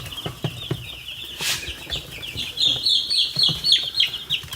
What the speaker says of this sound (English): There's actually chicks just on the other side of the wall there that want to get on this side because there are chicks here.